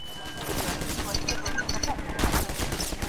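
Rapid gunfire bursts from the video game Half-Life 2, dense and continuous, with game ambience and voices underneath.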